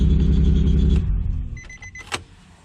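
A turbocharged Nissan 350Z engine runs with a heavy low rumble for about a second, then cuts off, leaving faint clicks and a brief high whine.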